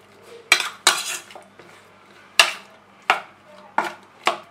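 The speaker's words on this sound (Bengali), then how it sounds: "ভালো করে এবার মাছটাকে কিন্তু মিশিয়ে নিতে" Hilsa fish being mixed with mustard oil and green chilies in a metal bowl makes loud, separate clanks and scrapes, about seven sharp knocks in an uneven rhythm, close by with no talk.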